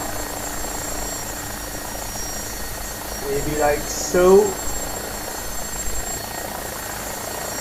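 AgustaWestland AW109SP helicopter hovering low over a helipad before touchdown, a steady engine and rotor drone running throughout, with someone speaking briefly over it partway through.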